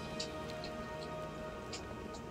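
Rain falls steadily in the World of Warcraft game world, a soft continuous hiss with occasional faint drop ticks, low in level and unbroken throughout.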